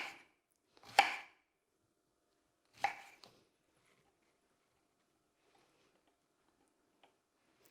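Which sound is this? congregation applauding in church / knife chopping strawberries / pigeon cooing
knife chopping strawberries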